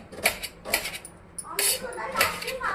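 A knife chops onions sharply against a cutting board, a few crisp strokes spaced about half a second apart, close and clear.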